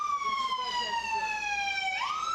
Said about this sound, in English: Turn off the fucking sirens.